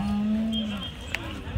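A cow at a weekly cattle market where HF, Jersey and crossbred cows and calves are sold gives one long, loud, close moo that tails off, with faint market noise behind it.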